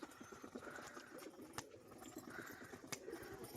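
A Rajshahi pigeon sitting on its eggs gives low, soft, repeated coos in a steady run, close by, with a faint background hum and no talking.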